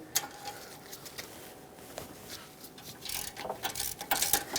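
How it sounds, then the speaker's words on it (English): A ratchet on a 17mm socket breaks loose the caliper bracket bolts on the front brakes of a 2013-2018 Hyundai Santa Fe. Quiet mechanical clicks and knocks come at irregular intervals and grow busier and louder toward the end. "use a 17mm socket and remove the 2 bolts that hold the caliper bracket onto the knuckle"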